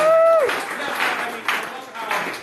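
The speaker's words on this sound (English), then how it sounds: "Give Dr. Bugs a round of applause." Audience at an improv graduation show at Unified Scene Theater applauds a performer, a broad wash of clapping that swells and dips in waves after a brief voice at the start.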